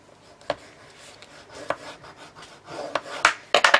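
Bone folder scoring and burnishing cardstock for a keepsake book: a series of short, close scraping and rubbing strokes, irregularly spaced, growing busier and louder toward the end.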